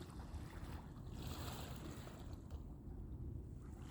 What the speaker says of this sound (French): le bruit des petites vagues qui arrivent au bord